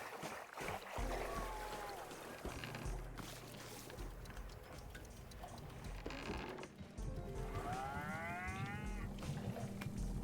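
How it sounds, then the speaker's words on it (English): Cow mooing in the video game Wanderstop, two drawn-out rising and falling calls, one early and a louder one near the end, over steady game music and ambience. "Is that making cow sounds?"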